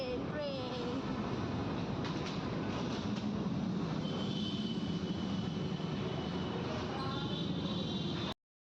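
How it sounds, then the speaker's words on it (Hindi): A train rumbles along overhead in a continuous, loud roar with clanking and squealing, heard from below as people walk beneath it. "ऊपर जा रही है ट्रेन।"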